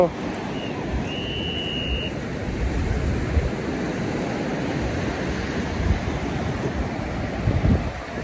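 Atlantic Ocean surf on Atlantic City beach, New Jersey, makes a steady loud wash mixed with wind buffeting the microphone, and a voice is heard faintly beneath it.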